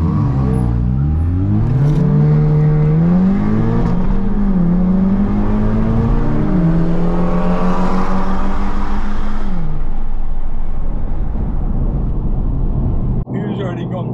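An Audi TT tuned to 480 bhp launching and racing a van, engine note climbing and dropping through gear changes as it accelerates hard, loud and close, with voices talking over it.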